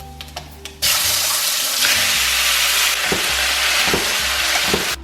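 Tomatoes drop into hot oil with dried red chili, mustard seeds and fennel seeds, a few light pops and then a sudden loud burst of steady close sizzling, with faint stirring scrapes.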